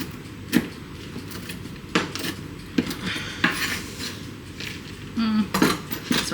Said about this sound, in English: It's a rough chop.